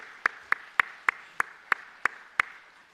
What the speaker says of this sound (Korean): 우리 박수를 한번 환영하겠습니다.